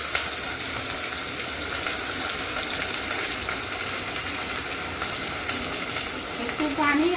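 Spices, garlic and ginger fry in hot oil in a pan, a dense, continuous crackling sizzle with steady stirring close by, no talk over it.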